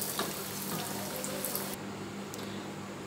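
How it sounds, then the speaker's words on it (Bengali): Banana flower cutlets frying in hot oil in a pan, a steady close sizzle with crackle, loud at first and then settling to a quieter, even fizz. "এরকম করে আমি বাকিগুলোও ভেজে নেব।"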